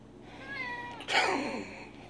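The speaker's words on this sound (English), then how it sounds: "Come on, cats love these, Sammie." A pet cat gives a drawn-out, close meow that rises into a louder, strained cry, heard alone in a quiet room.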